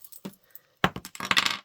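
Small hard objects clatter and tumble across a table in a quick burst, after a few light taps beforehand.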